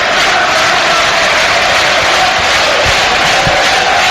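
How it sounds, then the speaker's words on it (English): Fulham supporters at a football match against Derby fill the stadium with a loud, continuous crowd roar, steady and dense throughout, with faint chant-like swells and a couple of low thumps near the end. "the Fulham crowd doing their best to get behind their team"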